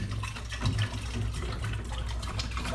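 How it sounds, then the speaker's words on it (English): Water swishes and sloshes steadily as cleanser is stirred into it in a beer-brewing container, a continuous close liquid churning with no voices. "you want to mix this until it's dissolved."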